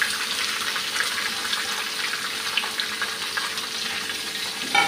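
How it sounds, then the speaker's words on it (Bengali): Bay leaf, onion and tomato frying in a pan for a Bengali chicken curry, with sugar already added: a steady close sizzle and crackle running throughout, with a few stirring scrapes and pops. "তেজপাতা, পেঁয়াজ আর টমেটোটা দিয়ে দিচ্ছি।"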